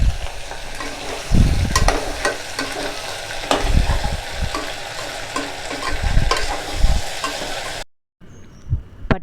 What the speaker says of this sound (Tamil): பட்டாணி, தக்காளி நல்லா வதங்கி இருக்குது